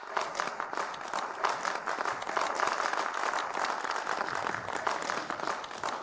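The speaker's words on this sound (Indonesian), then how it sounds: "Mari kita sambut dengan tepuk tangan meriah." Guests at a family banquet break into lively applause, a continuous crackle of many hands clapping at even volume throughout, fairly near with no clear voice above it.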